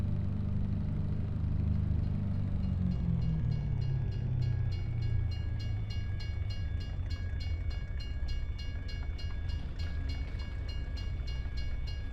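A train passes by in the video game Farming Simulator 25, a loud steady rumble of rolling wheels with a falling engine drone and rhythmic metallic clicking on the rails, alone without talk.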